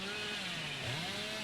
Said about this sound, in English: Revving up the chainsaw again to gain some distance